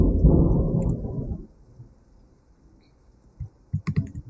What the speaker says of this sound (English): saying hi to the thunderstorm that's outside my door